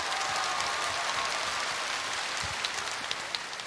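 A studio audience at a Korean televised singing contest in Andong claps steadily for the first contestant, a dense, even patter of many hands that runs throughout with no talking.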